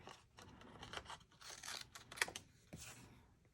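Paper being cut with scissors for a St. Patrick's Day shaker card: a close, quiet run of crisp snips and rustling strokes, with one sharper click partway through and no talk.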